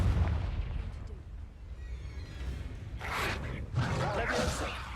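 The Confringo fire spell exploding in Hogwarts Legacy, a rumbling game soundscape that builds to two broad fiery bursts of blast and crackle in the second half, loud and close.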